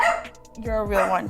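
A pet dog barks and yips several times at close range, sharp repeated calls that overlap and follow a voice speaking indoors.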